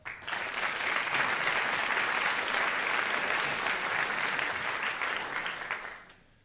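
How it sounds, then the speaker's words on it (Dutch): A large audience at a typography talk applauds, loud dense clapping that holds steady for several seconds before quickly fading away at the end. "Geef hem vooral een daverend applaus."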